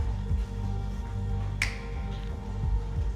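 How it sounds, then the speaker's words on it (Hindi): A single sharp finger snap rings out midway through a dim, noisy room inside a haunted house attraction, standing briefly above a low rumbling background. "चुटकी किसने बजाई बे?"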